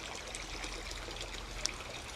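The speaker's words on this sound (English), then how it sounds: "So I'll slowly fill the second one up now." A steady close trickle and splash of water runs into a garden pond being filled for Doitsu Showa koi fry, continuous and even with one small bright drip.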